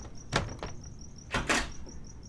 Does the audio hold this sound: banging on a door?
yes